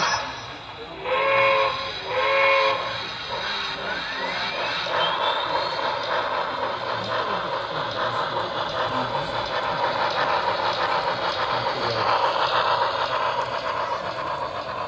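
A steam whistle sounds in two short blasts, followed by a continuous hiss and rhythmic chuffing of a model Pennsylvania Railroad K4 steam locomotive running along the track at a model railroad open house.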